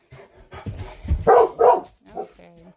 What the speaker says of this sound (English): Had to hush up the little doggy.